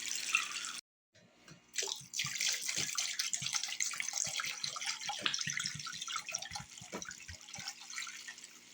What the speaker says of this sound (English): Just going to cover it with enough water to cover that chicken.